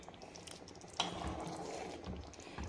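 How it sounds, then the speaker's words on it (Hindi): Kadi bubbling as it boils in a pot, a steady wet simmer with a sharp clink near the start, continuous and fairly close with no voices. "तो देखो गाइस, इसमें कितने अच्छे से बॉयल आ गया है।"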